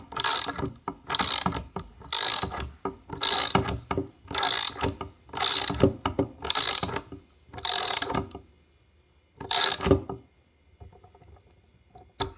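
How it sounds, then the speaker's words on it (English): Seal installation tool turned to press a spark plug tube seal into a J-series valve cover, giving about nine rhythmic ratcheting clicks, close and steady, followed by a quieter pause and one last turn. "every time I turn it, it's pulling the seal in nice and even"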